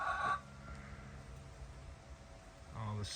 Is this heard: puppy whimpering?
no